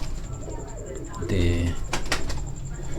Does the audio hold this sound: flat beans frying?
no